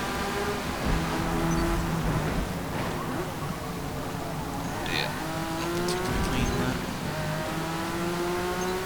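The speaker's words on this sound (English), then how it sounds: "Oh dear, the Jaguar has spun around the Lamborghini." Racing cars in Forza Motorsport, including a Jaguar and a Lamborghini, scream past under constant loud engine roar with rising and falling revs, while tires squeal through the middle of the run.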